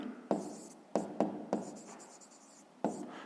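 A pen or pencil writes on paper during a fifth-grade maths exercise, making a series of quiet, scratchy strokes with sharp starts, some short and some longer, with no voices.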